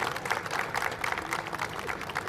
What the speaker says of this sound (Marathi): मी त्यांनी जोरदार टाळ्या व्हायला पाहिजे.